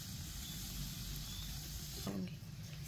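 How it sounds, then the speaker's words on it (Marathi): Smoking-hot oil poured over mixed flours for spicy fenugreek puri dough hisses with a steady, soft sizzle close by. Nobody speaks. "ह्याच्यात कडकडीत तेलाचं मोहन घालायचं।"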